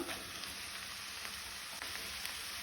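Chopped tender jackfruit sizzles steadily in a frying pan for a Goan bhaji, a constant bright hiss with faint stirring scrapes, close and alone with no talk.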